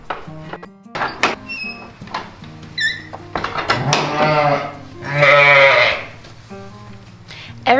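Dairy ewes and their lambs bleat at feeding time in a barn, with several overlapping calls near and loud, one long drawn-out cry in the middle and squeaky higher lamb voices.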